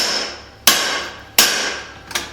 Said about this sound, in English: I'm going to use the guillotine tool to neck down the